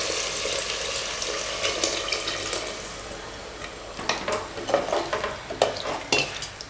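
Water goes into rice in a pressure cooker while making vegetable biryani, a steady hiss at first and then close splashy bursts in the second half, with no talking.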